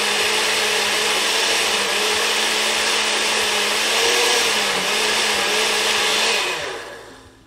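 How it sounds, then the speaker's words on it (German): A blender crushes ice for bubble tea, roaring loudly and continuously at close range for several seconds before winding down and fading at the end. "Ich hätte nicht gedacht, dass da das so krass zerkleinert kriegt, das Eis."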